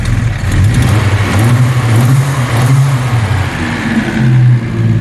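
A Chrysler Valiant Regal engine revs steadily and loudly through a stainless exhaust, its deep throaty rumble rising and falling through several pulls, with no voices.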